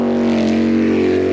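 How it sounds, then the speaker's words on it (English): A racing jet boat, New Zealand Riverjet, heads down the river course toward the finish line with a loud, close, steady engine drone and a sustained tonal whine. "New Zealand Riverjet is the boat heading down towards the finish line now."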